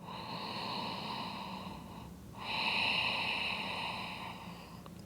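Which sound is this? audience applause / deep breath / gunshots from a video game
deep breath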